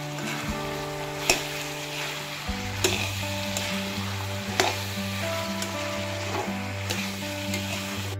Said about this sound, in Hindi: और अब इसको अच्छी तरह से भूनेंगे।